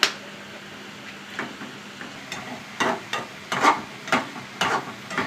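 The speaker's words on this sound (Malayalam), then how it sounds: "നന്നായി ചിക്കി എടുക്കട്ടെ മുട്ട." Spatula stirring scrambled eggs with drumstick leaves in a pan, heard as a few irregular scraping and tapping strokes that grow busier toward the end, close and moderately loud with no talking.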